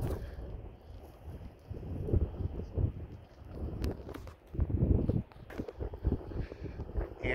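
Wind blowing outdoors by an old farm pig barn and corn crib, gusting and buffeting the microphone in uneven rumbling bursts, with no talking.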